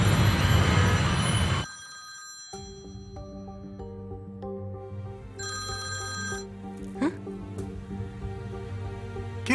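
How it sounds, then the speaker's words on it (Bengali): A telephone rings with a repeating electronic melody of clear tones that starts after a brief burst of noise and continues, moderately loud, with no talking over it. "কিরে, ফোনটা ধরলি না কেন?"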